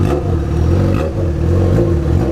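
A Yamaha XJ6 motorcycle engine revs up and down in repeated surges, loud and close, a steady mid-pitched roar with a few dips between throttle blips, no talking.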